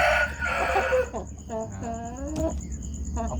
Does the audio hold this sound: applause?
no